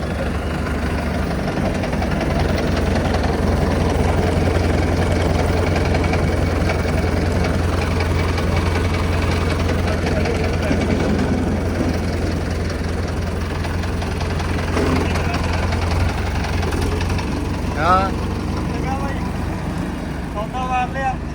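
A tractor engine idles steadily throughout with a constant low drone and light knocking, close and fairly loud, while people talk over it.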